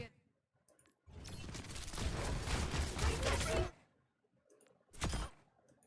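A sustained burst of rapid gunfire from Overwatch 2 on the Havana map rattles for over two seconds, then a shorter second burst follows after a brief quiet stretch, with faint clicks in between.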